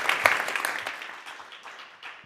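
A conference audience claps after an invitation to applaud, a burst of scattered hand claps that is strongest at the start and fades gradually over a couple of seconds.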